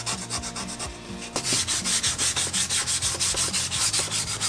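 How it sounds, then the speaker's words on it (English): Grey areas of a Jango Fett helmet build are sanded with 2000 grit sandpaper, making a close, rhythmic rubbing scratch of repeated strokes after a short pause. "go back in and sand these grey areas with a 2000 grit, make them nice and smooth"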